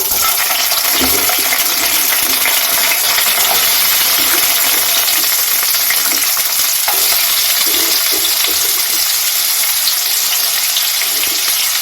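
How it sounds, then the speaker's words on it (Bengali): Cut pumpkin pieces fry in hot mustard oil in a wok, giving a loud, steady hiss and crackle that runs the whole time, with faint stirring knocks and no talk. "কড়াইয়ে তেল গরম হয়ে গেছে, দিয়ে দিচ্ছি কেটে রাখা কুমড়োগুলো।"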